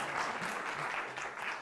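Audience applause at a lecture: a steady wash of clapping from a crowd, fairly even across the short stretch with no voices on top.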